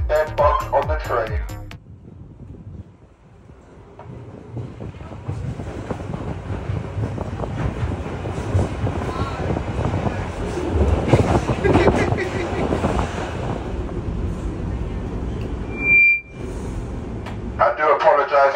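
A London Underground train rumbles and rattles along the track at steady speed, with an announcement voice speaking over it at the start and end and a brief tone near the finish.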